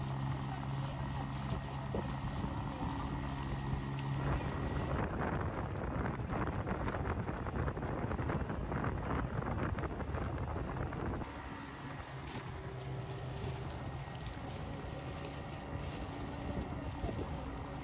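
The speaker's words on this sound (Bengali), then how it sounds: "বেশ জোরে চলছে মোটর বোট" A motorboat speeds across Lake Naivasha in Kenya, its engine droning steadily under rushing wind buffeting the microphone and hull slapping water, loud and continuous throughout.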